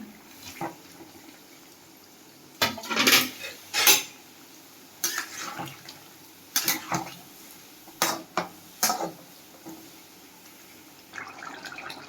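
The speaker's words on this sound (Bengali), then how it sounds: "এখন মাছটা দিয়ে দেবো।" Hilsa fish goes into an eggplant curry in a pot, with scattered clinks and scrapes of a metal utensil against the pot and short clattering bursts between quiet pauses.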